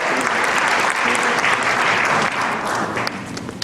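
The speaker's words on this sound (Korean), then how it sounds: "우리 연금재단 잘 운영해 주시라고 격려의 박수" Audience applause of encouragement at a church pension foundation gathering, steady and dense clapping from a large crowd held at an even level for several seconds.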